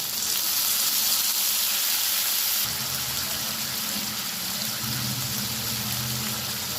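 Ginger paste goes into a pan of hot oil and fried potatoes; a bright steady sizzle shifts after a few seconds into a fuller, bubbling crackle, close and continuous with no talk.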